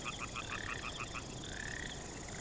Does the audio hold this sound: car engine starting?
no